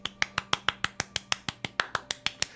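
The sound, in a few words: streamer snapping fingers to imitate clapping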